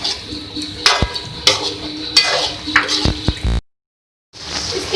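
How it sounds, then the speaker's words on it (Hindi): Yogurt is stirred and cooked into mutton karahi in a pot, with repeated scraping and clinking strokes of a spoon over a soft sizzle, heard close with no talking. "इसके बाद हम इसमें ऐड करेंगे दही, और इसको हम हल्का सा पका लेंगे"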